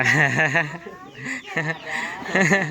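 Chickens clucking close by: bursts of rhythmic, strained clucks in two main clusters with a brief lull between them, loud and clear.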